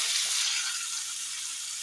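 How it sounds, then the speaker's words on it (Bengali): Boiled baby potatoes spiced with salt, turmeric and chilli powder fry in hot oil in a wok, giving a loud, continuous hissing sizzle close by. "কড়াইতে তেল গরম হয়ে গেলে এই আলুগুলো আমি দিয়ে দেব"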